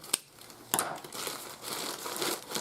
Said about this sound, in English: be very careful when you open these bags because they wrap and wrap and wrap and wrap and wrap